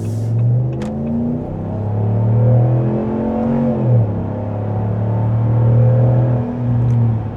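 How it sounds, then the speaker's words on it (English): A 2026 RAM 1500 truck with a Hemi V8 accelerating hard on the highway, its engine note rising in a steady, loud rumble with audible upshifts through the 8-speed transmission, heard from inside the cab without talk. "let's see how she does accelerating on the highway"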